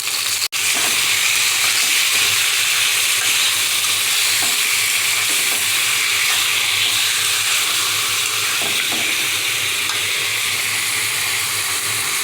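Chicken browning in a pan with lightly fried onions gives a loud, continuous sizzle up close, broken by a sharp click near the start and occasional soft stirring scrapes.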